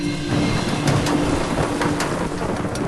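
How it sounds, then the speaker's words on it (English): Heavy rain pours down steadily and loudly outdoors, a dense continuous wash of drops with a few sharper spatters and a low rumble underneath, with no voices. "I don't know if you can hear it, but it's raining a lot."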